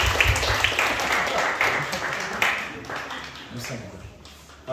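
A middle-school church congregation applauds after a closing prayer, a steady wash of clapping that fades over a few seconds while a voice speaks over it.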